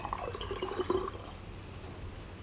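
Distilled or pre-boiled water trickles and splashes into a small spray bottle for a couple of seconds, quiet and close, with no voices.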